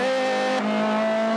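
A stripped, B18C-swapped Honda Civic EK4 race car at Okayama International Circuit, heard from inside: a loud, steady high engine note with strong harmonics that shifts pitch abruptly midway as the throttle changes.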